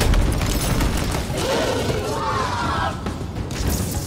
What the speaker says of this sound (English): Throwing six grenades at you, pretty effective.